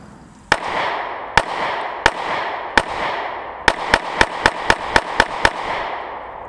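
Handgun shots fired at a target on a range, a dozen sharp reports, spaced singles at first and then a fast string of rapid shots, loud and close with no talk.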